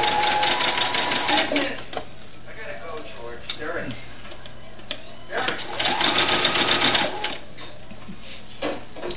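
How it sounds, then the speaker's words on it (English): A sewing machine stitches a doll dress in stop-start runs of rapid needle ticking and motor whir, with brief pauses between bursts and a voice talking quietly in between. "I'm going to start stitching"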